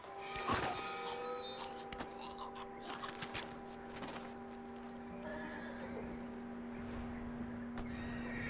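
A horse in Red Dead Redemption 2 gives a loud whinny near the start, followed by scattered clip-clop hoof sounds over a steady low game soundscape, with a voice speaking faintly underneath.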